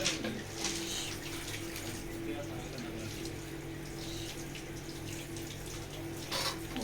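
Running water used for washing and cleaning with a bucket at an ashram during a Shivratri puja: a soft, continuous splash and trickle heard at low level.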